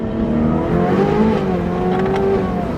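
An 850 hp Ferrari F8 Tributo engine in race mode revving and accelerating up through the range, loud and close, with a rising howl and a slight burble.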